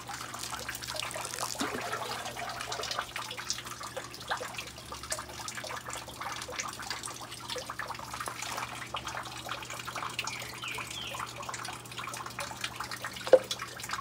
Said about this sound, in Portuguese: Molha bem aqui na parte de cima.